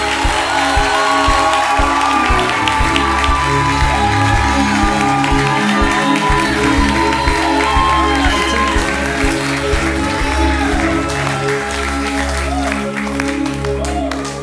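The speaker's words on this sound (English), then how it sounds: "Clap your hands and give the Lord a shout of praise." A church congregation at a live service claps and shouts in praise, a continuous wash of applause with cheers and whoops rising over music and voices throughout.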